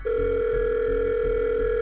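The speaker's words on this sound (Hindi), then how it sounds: "उसने फिर से अपने फोन से जॉन को फोन मिलाया" Steady telephone dial tone from a phone call in a Hindi horror story, a continuous loud hum held alone for the full clip with no voices.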